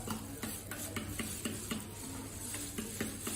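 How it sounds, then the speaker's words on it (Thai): Ingredients stirred together in a bowl while making healthy salad rolls, a steady run of scraping, clinking strokes in a quick irregular rhythm, close and clear with no talking. "คนให้เข้ากัน"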